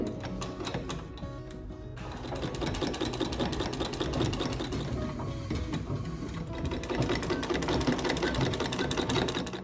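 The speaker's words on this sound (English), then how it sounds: "old sewing machine that's in one of the rooms" An old sewing machine runs continuously in a museum display, its mechanism producing a fast, even rattling and clicking with a steady motor hum, loud and close throughout with no talking.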